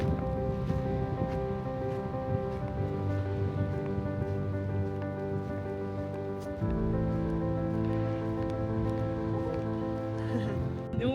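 Strong wind roars steadily by the sea near a lighthouse in Nova Scotia, a dense broadband rush with low droning tones, continuous and loud throughout with no voices.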